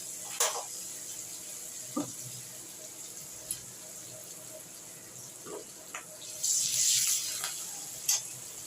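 Black cumin seeds and green chillies with a pinch of salt sizzle in hot oil, a faint steady frying hiss broken by soft stirring clicks and one brief louder spatter.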